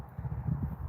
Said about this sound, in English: She's the dark chestnut horse.